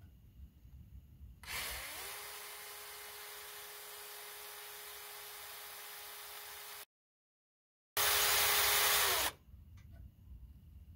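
A power drill whirs steadily for several seconds, stops, then runs again in a shorter, louder burst before falling quiet, stepping up from smaller to larger bits.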